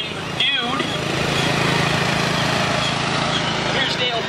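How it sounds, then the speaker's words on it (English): A 1996 riding lawnmower drives in a small-town parade, its small engine droning steadily at close range beneath a loudspeaker announcer and crowd noise. "Welcome Mike Myers on a 1996 lawnmower"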